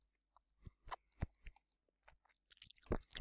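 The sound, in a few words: crunching on pepperoni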